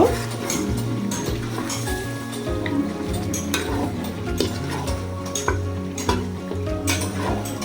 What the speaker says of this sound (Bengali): এখন আমি একটু এটাকে সুন্দর করে নেড়ে চেড়ে দিব